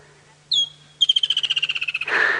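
Frogs call outdoors during a sunset safari drive: one short call, then a rapid train of about fifteen evenly spaced pulsed croaks. The calls are fairly loud and close, and end in a wash of broadband noise.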